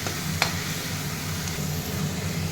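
Onions sautéing in a pan for chicken curry, browning in a steady, continuous sizzle with one brief utensil tap, close and even throughout.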